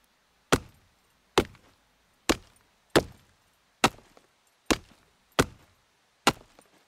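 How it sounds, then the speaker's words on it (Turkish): Axe chopping wood in the video game SCUM: eight sharp, loud thwacks at a steady, slightly uneven pace, each a crisp impact with a short woody decay, heard alone. "Şu balta sesi var ya, vurma sesi."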